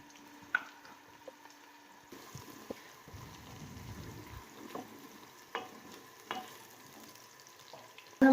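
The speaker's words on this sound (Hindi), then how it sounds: "प्याज वो डाल देंगे। इनकी अच्छे से भुनाई कर लेंगे उस वक्त तक जब तक इनका कलर ना चेंज हो जाए।" Onions frying in a pan for chicken mixed daal, a soft steady sizzle with faint crackles and a few scraping stirs, sitting close and moderately quiet with no talk.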